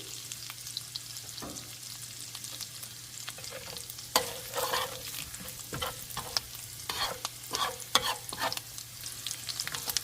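Chillies frying in a pan for egg fried rice, a quiet steady sizzle with irregular stirring scrapes and taps that grow busier toward the end, close and alone.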